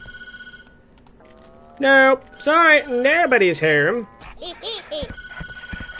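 A telephone rings in the horror video game Tattletail, a trilling electronic tone heard near the start and again toward the end, with a voice speaking loudly over the middle.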